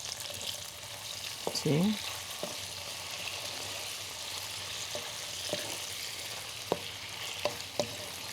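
Stir-fried vegetables sizzle steadily in a hot pan as soy sauce goes in, with brief clanks of a utensil against the pan and a short spoken word.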